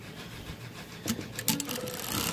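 A sewing machine stitching a t-shirt quilt gives a steady mechanical whir and rubbing hum, with a few brief louder clicks partway through and no talking.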